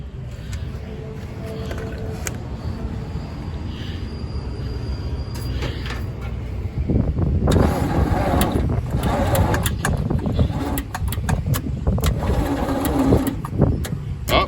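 An old abandoned farm truck engine turns over and starts, then runs in a rough, steady drone that grows louder halfway through, with no talk over it.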